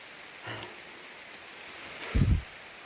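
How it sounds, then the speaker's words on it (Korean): Heavy rain falls steadily on a mountain trail during an autumn mushroom-hunting hike, a constant soft hiss with a brief rustle near the start and a louder close rustling thump near the end. "비가 많이 오죠. 소리 즐기시죠 여러분?"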